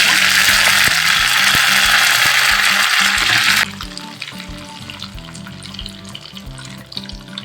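Loud, bright sizzling of mustard seeds and curry leaves frying in hot oil, cutting off abruptly partway to quieter clinks and scraping.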